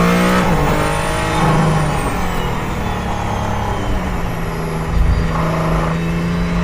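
A Mercedes-AMG ONE hypercar driven hard on a track, its engine note loud and steady throughout, rising and dipping as the driver shifts gears by hand.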